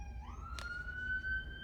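A police car siren wails from a distance, a steady rising tone sustained under low background rumble with a brief burst of noise partway through, no voices present.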